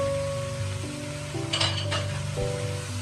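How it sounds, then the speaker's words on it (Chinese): Beaten eggs hit a hot wok of stir-fried cabbage, enoki mushrooms and shredded carrot, giving a bright continuous sizzle with scraping stirs and a few light clinks of the spatula against the pan. "接着我们就把准备好的鸡蛋也倒在锅中"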